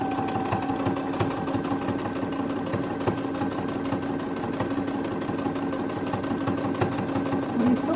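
A sewing machine runs steadily up close, a continuous mechanical hum and whir with fine rapid stitching clicks and no talking.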